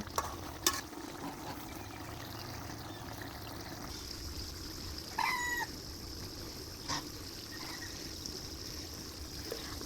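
Spicy pangas fish curry with ground dried red chili simmers in a covered pan, giving a faint, steady bubbling hiss with a few brief clinks and a short squeak over it.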